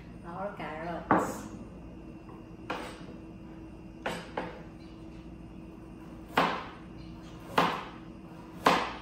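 A knife chopping carrots into fine strips, giving sharp, separate knocks on a cutting board at an uneven pace. The knocks are fairly quiet, with a short quick run of cuts near the start.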